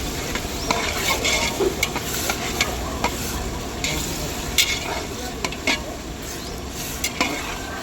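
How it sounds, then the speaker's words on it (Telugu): Onions with ginger garlic paste sizzle steadily in a hot pan while a spoon stirs and scrapes with occasional sharp knocks, loud and close throughout, no voices. "అల్లం వెల్లుల్లి పేస్ట్ వేసాక బాగా తిప్పుకోవాలి ఎందుకంటే ఒక దగ్గర అడుగంటుతూ ఉంటుంది అనమాట ఆనియన్స్ అయితే బాగా వేగుతూ ఉన్నాయి"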